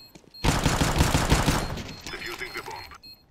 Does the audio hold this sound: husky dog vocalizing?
no